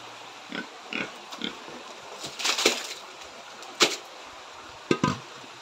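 A farm pig feeding on guava and banana pith, with several short crunching and snorting bursts scattered among soft rustling, fairly close and moderately loud, no talking.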